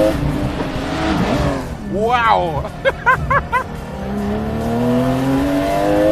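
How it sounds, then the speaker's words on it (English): A Guntherwerks Porsche 993 Speedster's air-cooled 4-litre naturally aspirated engine rises and falls in quick blips toward 7,800 RPM, loud and close, with a voice exclaiming briefly in between. "The first thing you want to do when you get inside is to feed it some revs."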